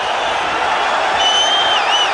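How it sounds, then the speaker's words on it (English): A boxing arena crowd at a George Foreman fight roars wildly as a loud, continuous wall of cheering, with shrill whistles cutting through near the end. "And the crowd going wild"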